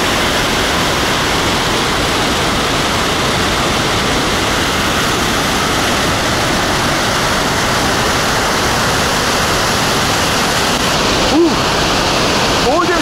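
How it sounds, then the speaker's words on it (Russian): A mountain waterfall on the North Chuya Range in the Altai Mountains: a loud, constant roar of rushing water fills the whole stretch, close and unbroken. "Водопад."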